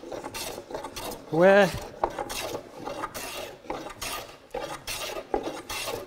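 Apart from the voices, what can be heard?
hand planing a wooden board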